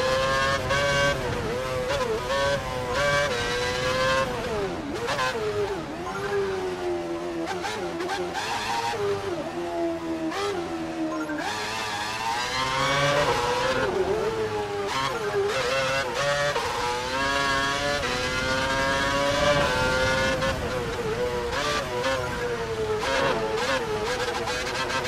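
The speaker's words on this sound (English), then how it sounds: "I want you to drive the last sector of the lap and hit every apex" Formula 1 race car in the F1 2012 video game drives a wet track, its high engine whine rising and falling steadily through gear shifts and corners for a long continuous stretch.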